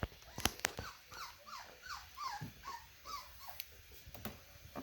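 A dog from a litter whimpers and yips in a series of short, high, repeated cries with a few sharp clicks and bumps nearby, fairly faint and without talking.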